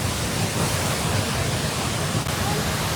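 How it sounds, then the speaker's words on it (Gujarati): Bahubali waterfall at Bhandardara, Maharashtra, pours out a steady, dense roar of falling water that holds at an even, loud level for the whole stretch without a break. "આ છે બાહુબલી વોટરફોલ"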